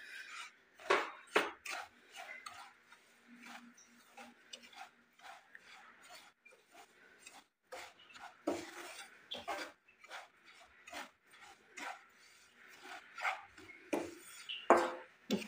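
Suji semolina being stirred and fried on a low flame in a pan for Assamese suji barfi, with repeated scraping clinks of a spoon against the metal in an irregular rhythm, close and moderately loud.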